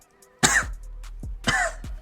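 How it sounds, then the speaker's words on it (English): Two harsh, close coughs about a second apart, each a sharp burst followed by a short throaty tail, with quiet between them. "Hey, don't be coughing. It's gross."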